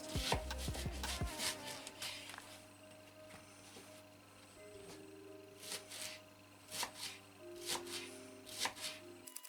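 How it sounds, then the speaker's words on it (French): Knife thinly slicing leeks on a board while making salmon lasagna, a run of quick crisp cuts up close, joined by scattered rustling and clinks of kitchen prep. "Et là, je l'émince"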